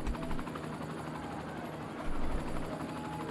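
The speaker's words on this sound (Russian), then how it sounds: "О, здесь у нас еще и вертолеты полетели куда-то." Helicopters flying in the city-building game Cities: Skylines, a steady whirring rotor drone that holds constant across the moment and swells slightly near the end, with no voices over it.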